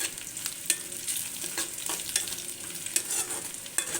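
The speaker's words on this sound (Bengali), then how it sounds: "এটাকে আমি পেঁয়াজটাকে ভেজে নিব ভালো করে।" Onions frying in a pan for lentil dal, with a close, crackling sizzle and frequent clicks and scrapes of stirring on the pan, and no talking.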